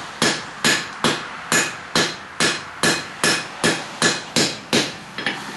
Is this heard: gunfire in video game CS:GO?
no